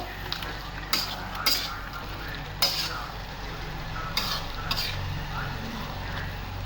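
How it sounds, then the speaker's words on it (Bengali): Homemade biryani being stirred in a pot: a steady soft background hiss with a few short, sharp clinks of a utensil against the pot scattered through, no talking. "হয়ে গেছে, এটা একটু নাড়বো।"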